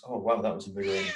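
A pet cat named Tinks meows in a drawn-out cry close by, mixed in with a person talking at home during a work session.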